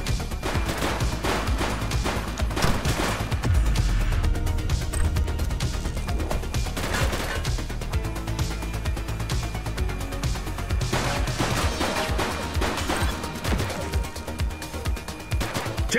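Gunfire crackles through a police shootout with a suspect in The Precinct, as dense bursts of rapid shots and impacts sound loud and continuous amid game noise.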